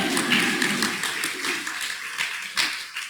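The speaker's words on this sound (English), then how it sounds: "So please give us a round of applause to encourage everyone" Applause from a summit presentation audience, a dense steady patter of many hands clapping for about three seconds, fairly loud and close.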